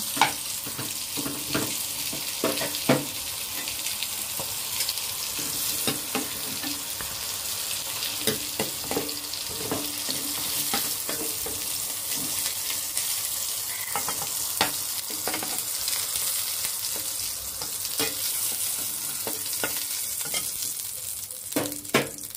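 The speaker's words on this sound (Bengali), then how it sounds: "পটলগুলোকে হালকা ভেজে নিয়েছি, এখন উঠিয়ে নেব।" Pointed gourds (potol) fry lightly in a pan, a loud continuous sizzle and hiss with frequent sharp spatters and pops and occasional stirring, steady throughout with no talking.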